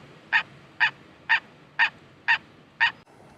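A bird near a fishing boat gives six evenly spaced, sharp calls about half a second apart, close and clear over quiet background noise.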